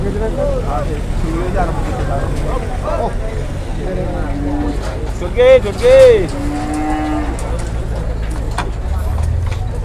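Cattle moo loudly twice in quick succession at a busy livestock market where cattle traders crowd around. Steady chatter and background bustle run throughout.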